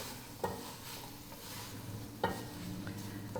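Ground meat browning in a pot for lasagna soup is stirred with a utensil, a steady sizzle under two distinct scraping strokes against the pot, close and moderately quiet.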